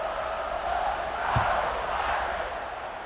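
A stadium crowd at a football game roars steadily with a broad wash of cheering and shouting, a brief thump near the middle, loud and sustained throughout.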